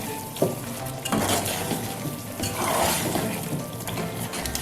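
Chicken kachnar browning in a pot, with a steady close sizzle of frying under repeated clinks and scrapes of a utensil stirring against the metal.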